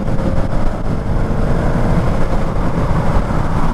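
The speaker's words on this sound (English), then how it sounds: "it's a new RS6. Oh, listen to the exhaust." A new Audi RS6 in gunmetal grey passes nearby, its exhaust giving a loud, steady low rumble throughout with no talk.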